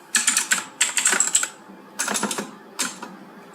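Fingers type on a computer keyboard in several quick bursts of close, crisp key clicks, with short pauses between the runs and no voices.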